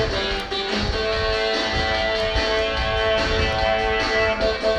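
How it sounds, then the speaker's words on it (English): Bright, dense 1980s Korg 707 FM keytar synthesizer tones play continuously with layered sustained notes and a busy electronic texture, no voices. "All of the sounds you're hearing are the sounds from the Korg 707."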